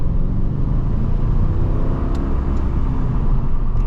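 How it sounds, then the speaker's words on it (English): From inside the cabin, a Mercedes CLK 55 AMG coupé's V8 in manual mode drones and rumbles steadily under acceleration, with road and wind noise mixed in and no talking. "Let's open the window a little bit so that we can hear slightly more of that V8."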